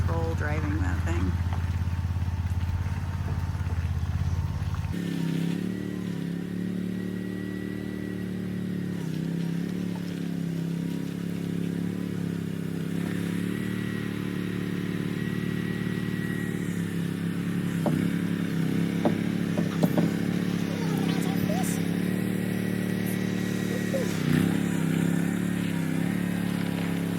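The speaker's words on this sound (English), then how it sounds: "It's just remote control driving that thing." A small remote-control vehicle drives around a property, its motor a steady whining hum with scraping and clattering over rough ground, continuous and fairly close, with people talking throughout.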